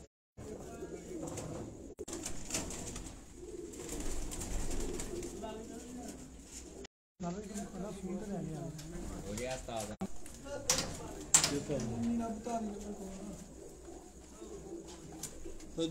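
Pigeons at a rooftop loft in Sialkot coo in repeated low, rolling phrases close by, mixed with someone talking over them and a brief dropout midway.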